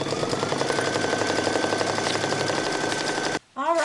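An embroidery machine stitches a quilted wall hanging design in a rapid, even mechanical chatter that runs steadily, then stops abruptly near the end as a voice begins.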